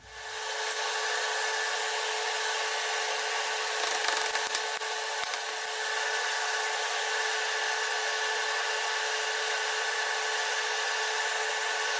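A power tool cuts steel pipe for a Shovelhead chopper neck, giving a steady, loud, high grinding drone that runs almost unbroken, with one brief rough patch near the middle.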